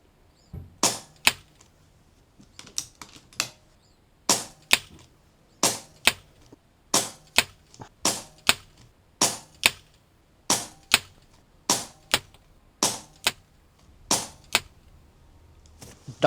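A sub 12 ft-lb air rifle firing a string of shots at targets about 50 meters away, each one a sharp, snappy crack or paired click, spaced roughly a second apart with short pauses between shots, in otherwise quiet surroundings.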